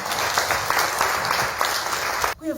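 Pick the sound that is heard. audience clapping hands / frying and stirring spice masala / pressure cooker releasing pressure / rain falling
audience clapping hands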